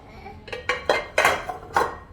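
Pyrex glass dishes from a swap meet clink together as they are handled, with about six bright, distinct knocks spaced irregularly over two seconds, close and fairly loud with no talk.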